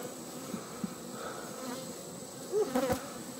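Disturbed bees from an open-air colony buzz steadily throughout as a piece of comb is scraped off, with a louder, closer burst of buzzing near the end.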